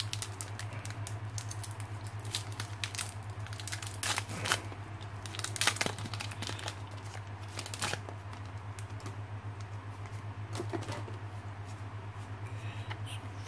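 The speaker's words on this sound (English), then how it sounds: "Now let's open up the Steam Siege pack." A Pokémon Steam Siege trading card pack is opened by hand: crisp foil crinkling, tearing and sharp clicking rustles come in irregular bursts, close up, with no talking.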